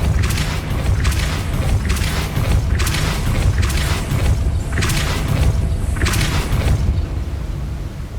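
Depulso spell cast in the Hogwarts Legacy video game, heard as a run of about six loud, booming blasts at a steady pace over a continuous rumbling game background.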